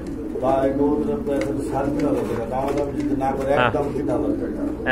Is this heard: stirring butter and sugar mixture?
no